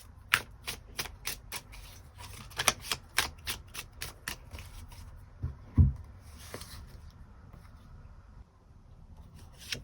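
Tarot cards being shuffled and drawn for a love reading: a steady run of crisp riffling snaps and slaps, fairly close, then a few softer card slides before a quiet tail, with no talking.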